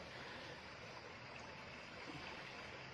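Floodwater of the Lam Takhong river rushes strongly past flooded homes in a continuous, dense, even roar that never lets up, with no talk over it.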